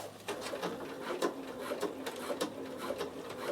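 A Bernina sewing machine stitches slowly over thick seams of a toiletry bag, a soft, regular mechanical chatter of individual stitches at a steady moderate pace, fairly quiet and close.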